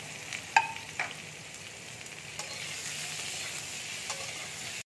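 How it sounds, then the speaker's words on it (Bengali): Potatoes seasoned with salt and turmeric fry in a pan, a steady oil sizzle with a few clicks of stirring, close and moderately quiet, with no voices. "নিয়ে আলুটাকে ভালো করে ভেজে নামিয়ে নেব"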